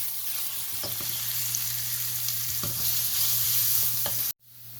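A medium onion fries in oil in a pot until golden, a steady dense sizzle with a few soft stirring scrapes, close and continuous until it cuts off near the end.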